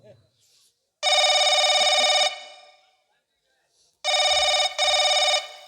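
A telephone rings in two bursts of bright electronic tones, one long ring and then two shorter ones after a pause, loud and close, with faint voices and noises in between.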